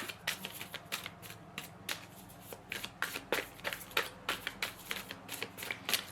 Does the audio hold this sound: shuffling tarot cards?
yes